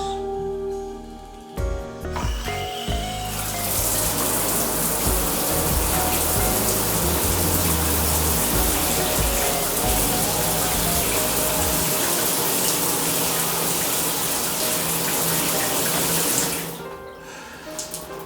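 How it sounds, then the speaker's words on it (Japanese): A hotel shower at the Mercure Tokyo Haneda Airport sprays water in a loud, steady hiss that runs continuously for many seconds before stopping abruptly, with a few handling clunks at the start. "シャワーチェックですね。"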